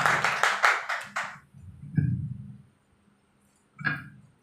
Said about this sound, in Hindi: मैं चाहता हूं एक बार जोरदार तालियां होनी चाहिए सर के लिए